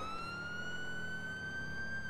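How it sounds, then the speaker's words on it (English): In a GTA roleplay game, a police car siren holds a steady high wail over a constant low engine and road rumble, loud and continuous with no speech. "Right now, I blew my siren down numerous times."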